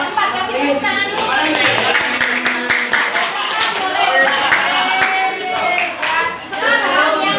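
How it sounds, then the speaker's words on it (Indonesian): Students in a junior high school classroom clap their hands together, a busy steady clatter of many hands heard under overlapping children's chatter and speech. "Tepuk tangan dulu."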